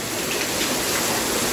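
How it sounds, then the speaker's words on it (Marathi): Heavy rain pours down in a steady, dense, close roar of broadband hiss with no break and no voices. "पण खूप जोरात पाऊस पडतो आता"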